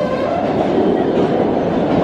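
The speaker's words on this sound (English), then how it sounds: "Again, another packed train." A crowded MBTA subway train in Boston runs on the rails with a loud, continuous rumble and roar. The grinding noise stays steady and close throughout, with no voices.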